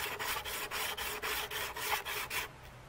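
A knife blade is sharpened on a diamond sharpener with about ten even, rhythmic rasping strokes, close and fairly loud, which stop just before the end.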